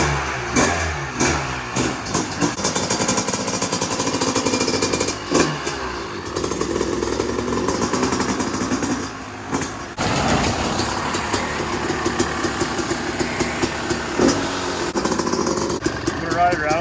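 A Yamaha YZ250 two-stroke engine fitted in a three-wheeler trike conversion runs through heat cycles, idling and revving with sharp blips, loud and close, while a person talks over it.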